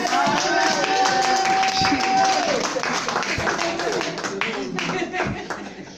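A church congregation applauds, with steady clapping mixed with crowd voices and a sustained tone over the whole stretch, loud and close.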